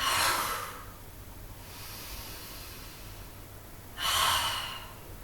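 Breathy exhalations during a yoga session, with two louder airy bursts at the start and end and a softer long breath between, close and without talk.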